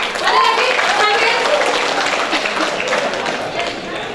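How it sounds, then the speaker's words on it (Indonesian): An audience at a university dialogue session with a sociologist and psychologist breaks into applause, a continuous round of clapping that fades slightly over four seconds while a voice talks over it. "Ya, tepuk tangan."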